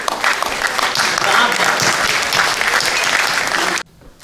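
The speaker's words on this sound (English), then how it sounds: "I want you to give a big round of applause to the man who was behind the radio." An audience at a documentary screening event gives a loud, sustained round of applause with a few voices mixed in, then it cuts off abruptly.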